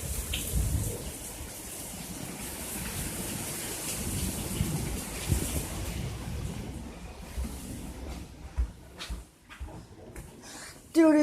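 Heavy rain pours down in a thunderstorm outdoors, a dense steady hiss that briefly eases near the end, with a few scattered knocks and bumps nearby.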